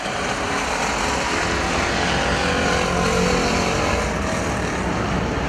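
Factory stock cars race at Perris Auto Speedway, their engines forming a dense, continuous roar that stays loud and steady from start to end, with no talk over it.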